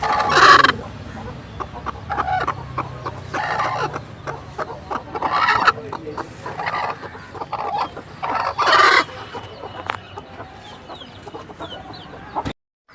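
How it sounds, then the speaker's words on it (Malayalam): A Kariyila hen, a brooding mother hen, clucks repeatedly in short, loud bursts separated by quieter pauses, with softer clucking and scratchy background sounds between. "ഇതാ പൊരുത്തം വെച്ചൊരു തള്ളയാണ് ഇത് കരിയിലാക്കോഴി കേട്ടോ"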